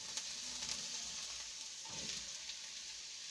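Cauliflower going into a pot of Mapuche piñon (ngülliw) stew gives a steady, soft sizzle with a faint stirring scrape, close and quiet, with no voices.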